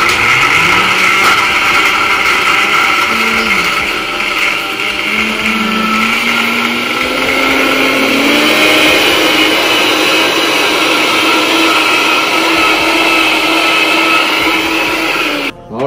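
A Vitamix blender runs loud and steady close by, a sustained whirring roar with a pitch that climbs slightly as it spins up, then cuts off abruptly at the end.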